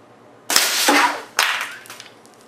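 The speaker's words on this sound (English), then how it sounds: "I'm gonna take a shot at it with my 22 caliber air rifle and see what happens." A .22 caliber air rifle fires at a mass of silly string: two sharp, loud cracks about a second apart, each with a brief, noisy splatter tail, in an otherwise quiet setting.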